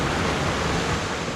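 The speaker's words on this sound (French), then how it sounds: "On est en haut de la cascade." A small waterfall on a hiking trail in the Jura, heard as a steady, loud broadband rush of falling water that fills the whole stretch without pause and with no talk over it.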